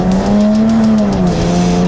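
A Jaguar F-Type sports car accelerates hard on the road, its engine droning loudly in a steady, rising tone from close range, heard from inside the car without any talking.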